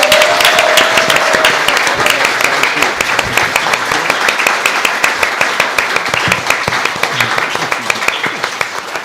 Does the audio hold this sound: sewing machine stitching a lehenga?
no